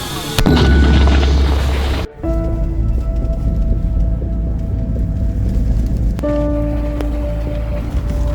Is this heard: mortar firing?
yes